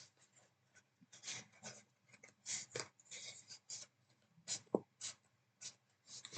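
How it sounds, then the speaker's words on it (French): Paper fold lines being scored with a bone folder for a Christmas wheel Advent calendar: a series of short, soft rubbing and scraping strokes, close and fairly quiet, in irregular bursts with pauses between. "Mon plioir. Je vais venir marquer mes plis."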